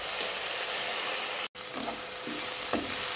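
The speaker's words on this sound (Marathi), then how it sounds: "अगदी 2 मिनिटं इतका आपण हा टोमॅटो व कांदा व्यवस्थित असा परतून घ्यायचा आहे" Chopped onion and tomato sautéing in a pan for paneer bhurji, a steady close sizzle with soft stirring scrapes, briefly cut by a short gap midway.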